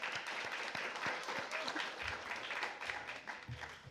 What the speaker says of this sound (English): can we please give a big round of applause for G and Peru?